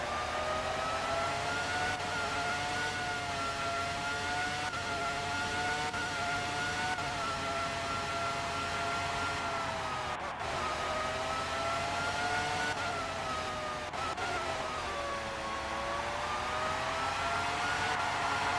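Formula 1 car engine from the PlayStation game Formula 1 '97 at the Hungaroring, revving high and steady through upshifts and a downshift, with the pitch climbing and dropping in smooth sweeps over the full stretch, loud and continuous.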